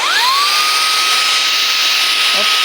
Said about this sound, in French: vous avez de l'autre côté de l'aspirateur de quoi gonfler un ballon, un petit bateau, etc